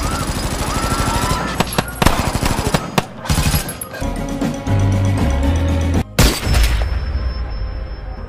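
Gunfire from a film's massacre scene, where armed men open fire without mercy: loud, dense bursts of rapid shots and booms, with a brief gap before the shooting resumes over dramatic soundtrack noise.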